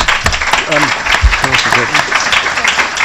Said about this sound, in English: Let's give Karen a round of applause.